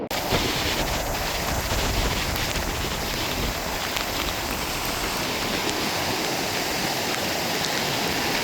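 Sea floodwater and waves surging over the Point Pedro coast, a dense, steady roar of rushing water that stays loud and unbroken throughout.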